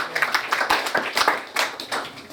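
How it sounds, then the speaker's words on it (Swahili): A church congregation clapping hands during an offering for development, brisk uneven claps from many people close by, rising and falling in bursts with no talk over them. "Hebu shangilie kwa makofi."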